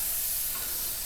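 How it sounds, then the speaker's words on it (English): Garlic sizzles in olive oil in a saute pan over medium-high heat, a soft, steady hiss heard up close and alone. "And then I'm gonna put the garlic in, and I'm heating it over about medium-high"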